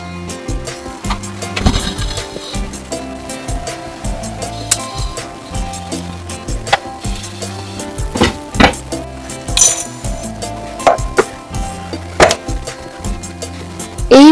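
Jujubes with turmeric, salt and chilli powder get stirred in a pan, a utensil scraping and knocking against the metal in irregular clicks and taps, close and fairly clear with no talking.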